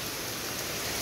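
Heavy rain pours down on trees beside a bus stop, a loud, dense, steady hiss filling the whole clip with no voices.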